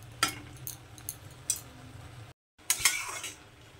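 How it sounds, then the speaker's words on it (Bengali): A lid set on a pan of jute leaves in a home kitchen, heard as a few light metallic clinks and taps spread across the clip, with a brief cut to silence partway through. "একটা ঢাকনা দিয়ে ঢেকে আমি এটাকে 5 থেকে 7 মিনিট একদম কম আঁচে রেখে দিচ্ছি।"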